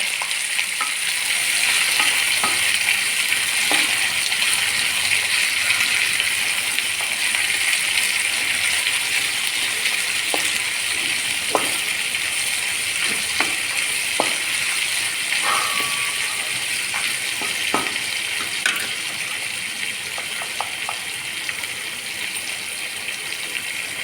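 Onions fry in a pan for a buttermilk curry with a steady hissing sizzle, dotted with light clicks and occasional spoon scrapes throughout, close and unbroken, with no one talking.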